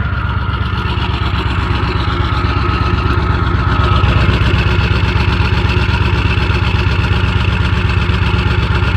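A 2001 7.3 diesel engine idles after a cold start at -14C, giving a loud, steady, rough clatter that runs unbroken and evenly throughout, with no voices.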